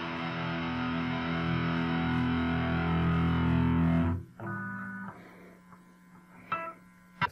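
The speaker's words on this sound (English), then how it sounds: "Effect number 3, distortion." An electric guitar chord rings out thick and heavily distorted for about four seconds, then cuts off into a few quieter distorted notes and clicks.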